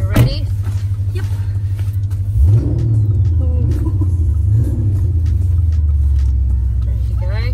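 A V8 car engine rumbles steadily and low while driving, loud and continuous, with people talking over it inside the car.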